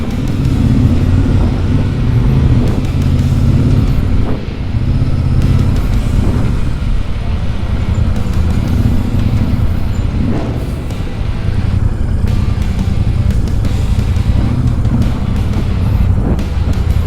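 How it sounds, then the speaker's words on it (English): Royal Enfield Super Meteor 650 motorcycles riding on a club Sunday ride, a loud, steady low engine drone with throbbing harmonics and wind buffeting the microphone, sustained throughout. "We have arrived at the destination with the SM650 Road Burners, the motorcycle club"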